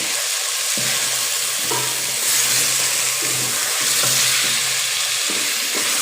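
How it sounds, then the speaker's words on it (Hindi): Chicken with ginger-garlic paste sizzles and fries steadily in a hot pan for chicken nihari, with occasional stirring scrapes; a constant crackling hiss, close by, no voices. "अब इसको भूनेंगे।"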